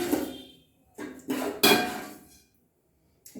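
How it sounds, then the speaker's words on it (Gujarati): Hot oil tempering is poured and spooned over khandvi, the Gujarati gram-flour rolls, giving several short sizzling bursts with metal clinks of a pan and spoon, separated by quiet gaps. "ચલો આપણે એને વઘાર લઈ અને આના ઉપર રેડીશું"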